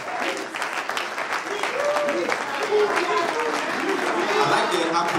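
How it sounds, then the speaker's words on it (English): A crowd applauds a speaker arriving on stage at a live-streamed event, the clapping sustained and fairly loud while voices talk and call out over it. "with a rousing round of applause"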